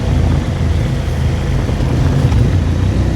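A Japanese V-twin superbike engine roars loud and close while riding at speed, a continuous heavy low rumble mixed with wind noise and no talking.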